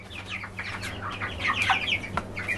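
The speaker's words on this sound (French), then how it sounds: "On a 2 poules soies ici, je pense que ce seraient des filles." Silkie hens clucking in a farm setting, a quick run of short, chattering clucks and higher calls for under three seconds, fairly close, over a low steady background hum.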